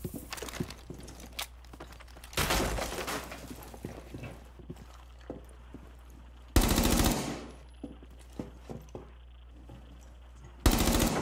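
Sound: machine gun fire in a video game

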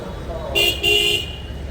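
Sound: KSRTC bus arriving at Bhatkal bus stand, horn honking

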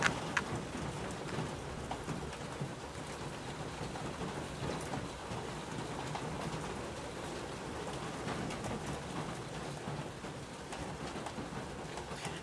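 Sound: heavy rain and thunder

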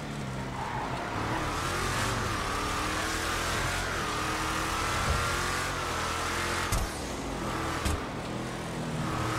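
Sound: car engine during a test drive in GTA Online video game

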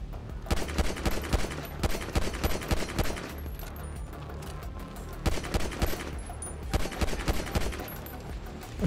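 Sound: gunfire from the video game GTA 5

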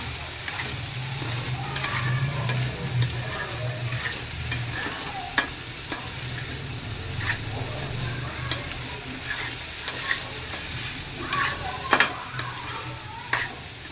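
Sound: vegetables being sautéed and stirred in a pan

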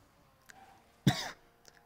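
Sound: cough

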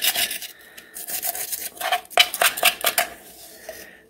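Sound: scraping ice cream off inside of DASH ice cream maker

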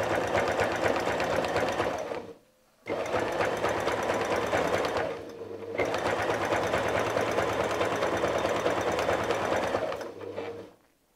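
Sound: sewing machine quilting an arc on a fire-fish appliqué

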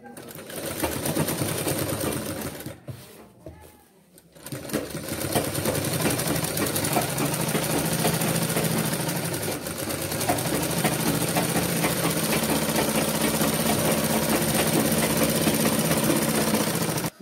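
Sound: sewing machine stitching medical apron seams

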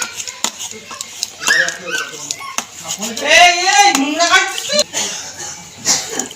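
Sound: mashing beans and tomatoes with a ladle

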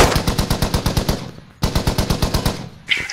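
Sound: 50 cal machine gun firing in video game Squad

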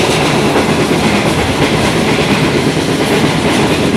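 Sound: passenger train running on rails, Karachi to Mirpurkhas

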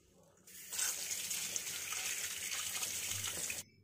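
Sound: tap water washing catla and boal fish

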